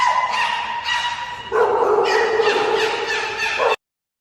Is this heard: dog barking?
yes